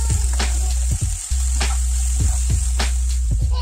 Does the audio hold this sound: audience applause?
no